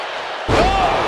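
A wrestler's splash lands on the mat in the WWE 2K23 wrestling game with a single heavy slam, followed by a short ringing boom over a constant crowd roar.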